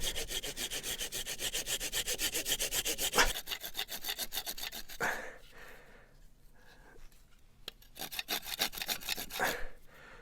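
A hand saw trims the end off a wooden spindle for a pot crane, cutting in quick, even back-and-forth strokes up close, then pausing before a few slower, more uneven strokes finish the cut.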